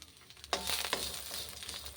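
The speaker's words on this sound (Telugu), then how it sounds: "ఇలా ఫ్రై చేసుకొని మనం ఇప్పుడు ఇందులో వెల్లుల్లి రెబ్బలు యాడ్ చేస్తున్నాను" Garlic cloves dropped into hot oil with fried green chillies set off a loud burst of sizzling that keeps crackling steadily, close and alone.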